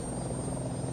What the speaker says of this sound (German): dann machen wir mal einen Testflug mit einem Hubschrauber